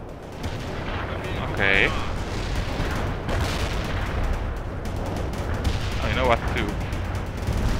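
Artillery barrage in the World in Conflict strategy game, a steady roar of booming impacts and rumbling fire layered throughout, with radio-style voices talking over the bombardment.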